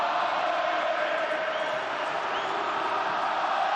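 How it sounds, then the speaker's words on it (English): Football crowd singing together in the stadium during a 2009 Barcelona vs Espanyol match, a dense, steady roar of many voices that carries on without a break. "I won't translate the words of the song the crowd are singing"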